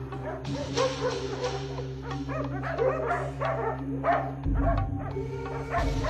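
Dogs barking, yipping and whimpering at a hyena outdoors, a busy run of close, repeated yelps and barks over a steady low rumble that deepens near the end.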